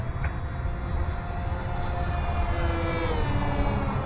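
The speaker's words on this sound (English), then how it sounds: "Let me do a full throttle low pass." A Great Planes PT-19 balsa model warbird makes a full throttle low pass, its small engine holding a steady high whine that shifts pitch as it passes, heard outdoors at a moderate distance over wind noise.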